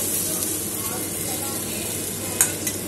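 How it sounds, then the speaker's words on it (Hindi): Dal being tempered (chhaunk) in hot oil in a home kitchen, a steady close frying sizzle with a couple of brief sharper spits near the end. "और ये मेरी दाल मैंने छौंक दी है।"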